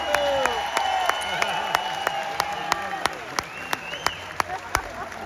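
Scattered hand claps ring out over a murmuring theatre audience at a Barry Manilow tribute show, sharp individual claps spaced irregularly rather than a full ovation, with voices underneath.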